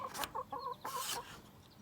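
Hens in a backyard chicken pen give soft, close clucks and short throaty calls in a loose, uneven rhythm, with a couple of louder rustling bursts in between.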